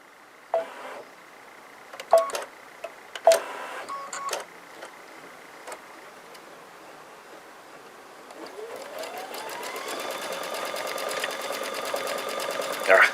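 A Baby Lock embroidery machine stitches with a magnetic frame. Scattered clicks and taps come first, then the motor spins up into a steady, rapid mechanical whirring run.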